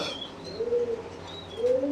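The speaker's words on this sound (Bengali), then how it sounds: "এই নিচের খাঁচায় আমরা আরেক জোড়া কবুতর দেখতে পাচ্ছি, বোম্বাই কবুতর।" Bombay pigeons in a cage, a yellow male and a white female, giving a few soft, low coos close by against quiet background noise, with no talk.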